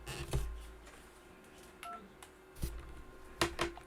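Touch-tone dialing on a Mitel 6930 IP phone: several short, fairly faint key tones spaced irregularly over a low background hum, with no talking.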